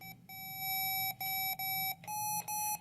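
Generated DTMF tones from the low frequency group, 697 to 941 hertz, sound as a series of clean, steady electronic beeps, about five in a row with short gaps, each step changing pitch, faint and alone.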